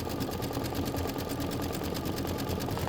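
An embroidery sewing machine runs a steady, rapid stitch as it outlines a poinsettia. The whirring is close and continuous, with a fast pulsing rhythm throughout and no talking.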